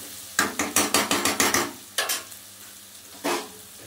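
Greens, stalked leafy shak, dropped onto pumpkin curry frying in a pan, giving a rapid run of about nine loud rhythmic scraping stirs, a pair more after a short gap, then one last stroke over a low background sizzle.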